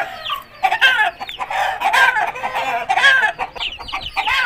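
Aseel hen clucking close by, a string of loud, rapid clucks and squawks lasting a few seconds, with no voices.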